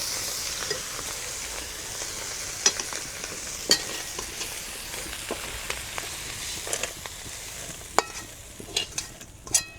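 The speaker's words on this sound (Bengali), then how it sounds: "আলু বিমস আর গাজর একসঙ্গে ভেজে নিব" Potatoes, beans and carrots sizzle steadily in a hot pan, with scattered crackles and occasional scrapes of stirring, no voices.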